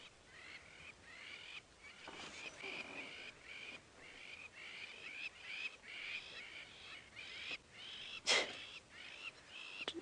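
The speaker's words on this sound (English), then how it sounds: "I think it's a dispute between several different pairs of lapwings. That's what's got them making such a fuss." Several pairs of lapwings call out in a territorial dispute, a run of repeated, faint piping cries over a quiet outdoor background, with one sharper, louder call near the end.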